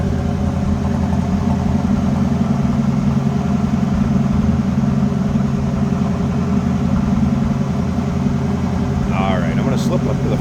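A 1979 Pontiac Firebird Trans Am engine idles fast and steady up close, a constant low rumbling drone with no pauses from start to finish.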